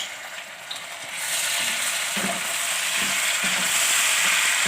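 Tomato goes into a frying fish curry and a loud, hissing sizzle surges up at once, holding steady as the pan is stirred, close by with no voices.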